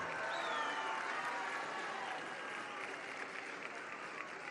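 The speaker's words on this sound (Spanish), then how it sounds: "un fuerte aplauso a Javier Guerrero" Sustained audience applause at a hospital groundbreaking event in Saltillo, a dense steady clapping that fills the whole stretch with some faint crowd murmur.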